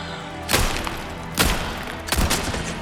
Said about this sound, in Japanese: あ、待って、あんなとこから撃ってる